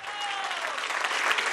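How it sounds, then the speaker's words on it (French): An audience claps for a contestant at the Miss Tunisie 2013 pageant final, giving dense, steady applause from a sizable crowd, with a voice briefly audible over it. "Applaudissements pour elle, s'il vous plaît."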